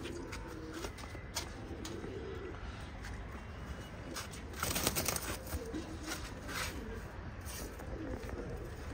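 Punjabi Malwai pigeons coo softly and repeatedly in a loft, low murmuring calls over a steady background hum with a brief louder burst midway, no talk present.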